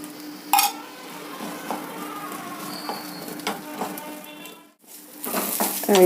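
Onion, green chilli, ginger and garlic fry in a little oil with a soft continuous sizzle, while spoon clinks and pan scrapes come and go, close by, with a brief lull near the end.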